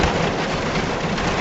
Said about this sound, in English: I'm assuming you can hear that rain